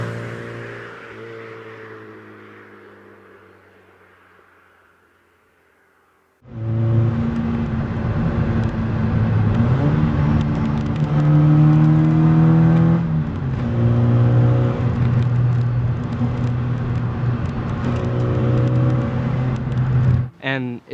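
A classic Mini Cooper with an upgraded 1275 engine drives hard through bends, the engine droning and rising and falling in pitch as it revs, loud and steady from the cabin after a quieter fading engine note at the start.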